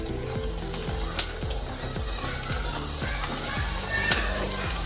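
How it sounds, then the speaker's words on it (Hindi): Salted namak pare dough snacks frying in hot oil in a kadhai, crackling with a dense, steady sizzle and repeated scraping stirs. Faint voices occasionally sound underneath. "अब हम नमक पारे को फ्राई करते हैं।"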